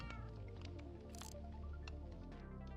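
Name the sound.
cat meowing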